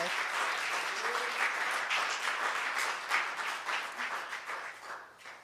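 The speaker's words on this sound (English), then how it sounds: "Let's give him a round of applause." A congregation at a Unitarian Universalist worship service applauds steadily, a dense patter of many hands that holds for several seconds before gradually thinning and fading out.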